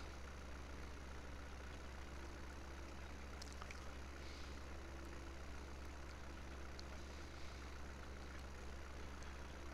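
A tractor engine in Farming Simulator 17 labouring uphill on a slope with poor grip, a steady low drone that holds constant and fairly quiet throughout, with no voices.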